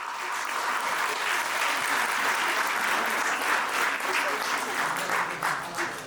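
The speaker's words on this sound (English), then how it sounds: "Let's give our dancers another big round of applause." A theatre audience applauds dancers after a Bharatanatyam recital segment, steady dense clapping sustained at an even loudness throughout.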